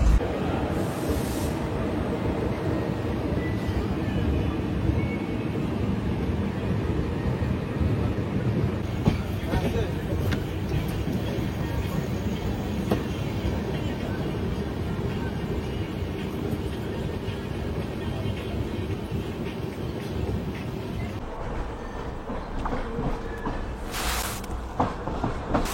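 Steady low rumble and rattle inside a moving Sri Jagannath Express passenger train running from Shalimar to Puri, a continuous broadband roar filling the whole stretch with faint background voices.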